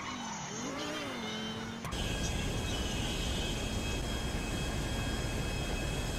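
A jet flying in GTA 5, its whine sweeping and shifting before giving way to a dense, steady roar of rushing noise with a faint high tone, moderately loud and continuous, with no speech.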